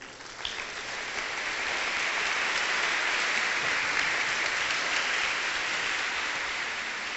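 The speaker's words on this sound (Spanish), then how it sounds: "El aplauso, por favor" Sustained audience applause at a Christian worship concert, a broad steady wash of many hands clapping for several seconds, loud and even, with no talking over it.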